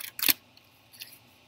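A new deck of tarot cards is shuffled, giving a quick crisp riffle burst of card edges, then a softer brief flutter, close up with no talk.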